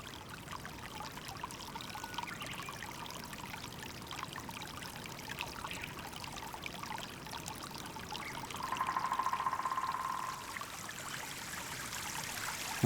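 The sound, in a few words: snowmelt water streaming down a cascade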